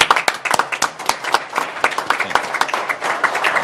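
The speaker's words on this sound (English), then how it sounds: "you deserve a round of applause" An audience at a public board meeting claps, with distinct, fairly close hand claps in a brisk, uneven rhythm that settles into a looser patter as it continues, with no speech over it.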